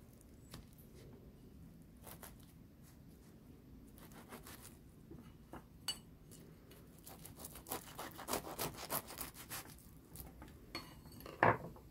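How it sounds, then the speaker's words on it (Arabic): A knife slices through a baked stuffed msemen flatbread, giving soft scraping and crunchy cuts with occasional taps on a plate, quiet and close, building to firmer strokes near the end. "غادي نقطع معكم وحده باش يبان لكم حتى الداخل ديالهم"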